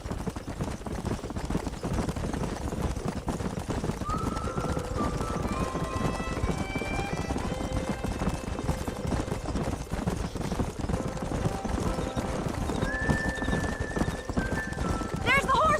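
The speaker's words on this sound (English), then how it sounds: "There's the horses!" Hooves clatter in a steady galloping rhythm while horses neigh and whinny several times in the video game Red Dead Redemption, set against background music and game-style effects.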